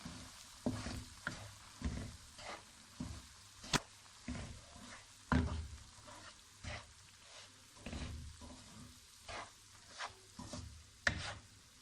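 Rice flour stirred into hot oil in a pan, giving a steady low sizzle broken by repeated scraping strokes of a spoon at an even rhythm, close and fairly quiet with no talking.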